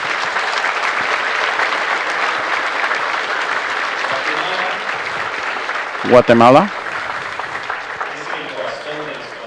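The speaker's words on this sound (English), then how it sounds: "I want to ask you in a respectful way to bring applause to Guatemala." Audience at an educational conference session giving sustained applause for Guatemala, a steady broad wash of clapping with a brief spoken interjection partway through, continuing afterward.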